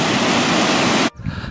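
Arthur's Waterfall in the woods roars as a loud, dense, steady rush of falling water heard close up, then cuts abruptly to a quieter background.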